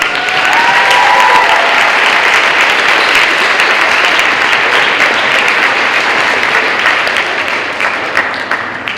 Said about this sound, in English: This is a great big hand clap, man